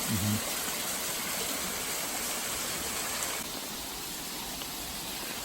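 Rain falls on a rainforest trail near waterfalls, making a steady, close broadband hiss of water with no distinct drops. There is a brief low thump at the start, and the sound softens slightly partway through.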